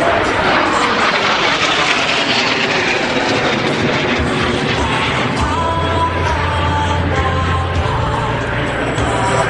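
Jet demonstration team aircraft at the Capital Airshow at Mather Airport in 2011, a loud continuous engine roar passing overhead with a rising tonal whine, with faint crowd voices underneath.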